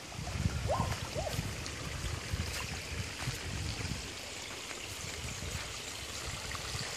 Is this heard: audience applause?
no